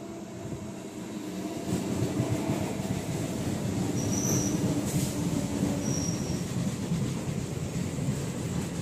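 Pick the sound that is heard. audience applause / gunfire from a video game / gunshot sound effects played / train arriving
train arriving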